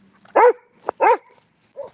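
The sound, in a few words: dog barking at another dog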